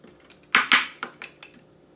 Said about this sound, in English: we have the tomato naked, and I'm going to cut that up into